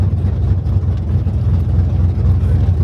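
Car engine idling with its exhaust cut off during transmission work, a loud, rough low rumble that stays steady and close with a slightly uneven throb.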